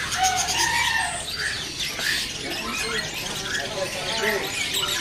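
An adult Bali myna calls with bright chirps and whistles at a bird seller's, mixed with other birdsong and heard under a person talking nearby.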